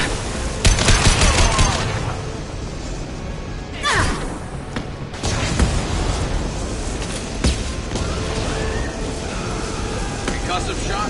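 Gunfire and explosive impacts in the video game Mass Effect 2, with dense loud bursts and crashes sounding continuously through a battle, along with a few sharp blasts and a speaking voice over the din.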